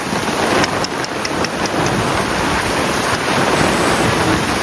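Steady, dense rain with a broad roaring hiss and some gusty wind noise, continuous throughout with no voices.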